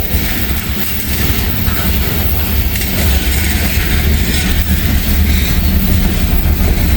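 Freight train with a distributed power locomotive climbing a steep grade, a loud, steady rumbling diesel drone with constant rail noise and faint clanking, filling the whole stretch without voices.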